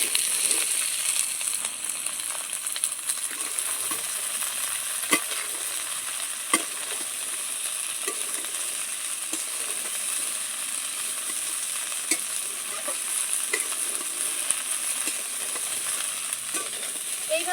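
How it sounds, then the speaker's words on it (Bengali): Chopped mituli and potato pieces frying with onion in a pan, a continuous close sizzle with scraping stirs and occasional clacks of a spatula throughout. "পেঁয়াজটাকে হালকা একটু ভেজে নিয়েছি এবার এই যে কাটা মিটুলি আর আলুটা দিয়ে দিলাম"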